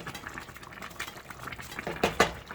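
Collard greens and neck bones are stirred in a pot of simmering liquid. Bubbling and wet sloshing are heard, with a couple of louder utensil scrapes and clinks near the end.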